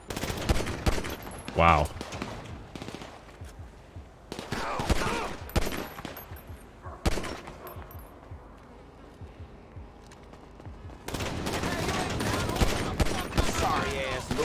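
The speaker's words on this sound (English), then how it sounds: "I guess we're just shooting without." Bursts of automatic gunfire crackle in a Grand Theft Auto shootout in Los Santos, loud clusters separated by quieter stretches, with a brief voice reaction.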